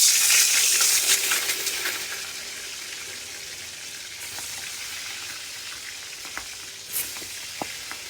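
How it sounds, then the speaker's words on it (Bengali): Pabda fish frying in hot oil in a wok, giving a loud, close, steady sizzle that is strongest at first and then settles lower, with a few small clinks near the end and no talking. "পাবদা মাছটা ভাজবো।"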